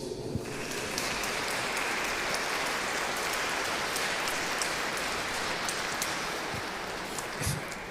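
Sustained audience applause at a spiritual lecture on the Gospel of Matthew, a uniform, rain-like patter of many hands clapping that swells in after a quiet moment and holds steady throughout.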